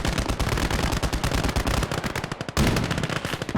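Anti-tank rifle fire and other gunfire in a WWII battle game set during a German offensive. Dense, loud, continuous volleys of rapid shots overlap one another, with no gaps and no voices.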